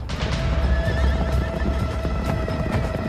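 Horses neighing loudly in a battle scene of mounted riders charging soldiers on the Plains, whinnies rising over a dense rumble of galloping hooves.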